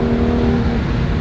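BMW 435i fitted with VRSF catless downpipes, its exhaust droning loud and steady with a low rumble and a held tone while accelerating at around 40, heard close and alone.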